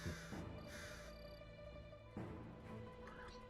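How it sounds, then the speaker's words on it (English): In the Wandering Sword video game, crows caw in two harsh, drawn-out calls followed by a third, heard fairly close over a steady ambient music bed. "It's the sound of crows."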